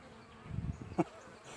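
Honeybees around a small one-month-old nuc hive make a faint, close buzz in short bursts, with one sharper pass standing out over quiet background.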